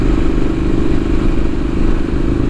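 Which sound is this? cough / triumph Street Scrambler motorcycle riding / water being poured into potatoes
triumph Street Scrambler motorcycle riding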